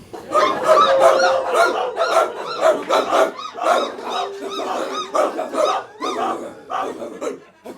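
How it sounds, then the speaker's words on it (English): Dogs bark at night over and over in overlapping bursts, a dense, restless chorus of yaps and barks with barely a pause. "There's nothing as infuriating as dogs barking in the night."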